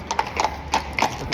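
Horses' hooves clip-clop on a Copenhagen street, a steady run of sharp, fairly close knocks over light background noise.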